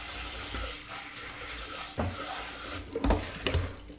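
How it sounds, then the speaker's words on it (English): Tap water runs into a kitchen sink to rinse out a food processor bowl, a soft continuous trickle broken by a few clunks and splashes as the bowl is handled, with no talking. "going to rinse out this processor real quick."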